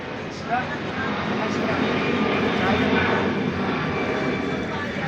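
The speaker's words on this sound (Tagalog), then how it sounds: "Ingay ang eroplano." An airplane passes overhead, a steady broad engine roar that holds loud and even throughout, with a voice faintly talking beneath it.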